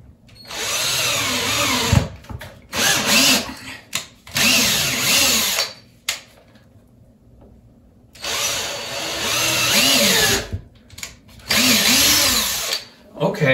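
Power drill boring pilot holes for venetian blind brackets, several loud bursts of whirring, each a second or two long with short pauses between, close by; a voice talks briefly between bursts.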